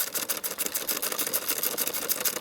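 A ratcheting socket wrench turns a bolt on a Granberg Alaskan chainsaw mill, making a fast continuous run of close, crisp clicks.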